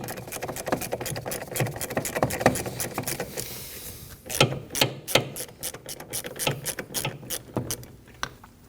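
A hand socket ratchet loosens the nuts holding the brake master cylinder on a 2009-2014 Ford F-150, giving quick, close pawl clicks in steady runs, with a brief pause before a second, sparser burst of clicking.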